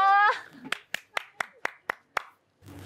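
Seven distinct hand claps in an even rhythm, close and crisp, after a brief high-pitched vocal sound, with faint noise at the end.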